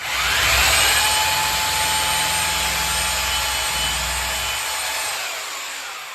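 A drill boring holes in a bathroom wall to move a towel rack, a loud, steady whining drone that holds for several seconds and then tapers off, close up with no talk.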